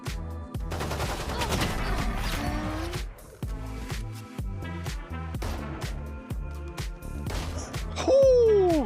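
Rapid automatic gunfire from the tactical shooter Valorant in a gun game mode, dense bursts of shots in quick succession, then a pause and more spaced shots, ending with a sharp whistling effect, loud and close.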